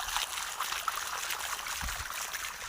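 Water from a well pump motor pours steadily outdoors to water trees, a continuous splashing rush at moderate level with a brief low thump partway through.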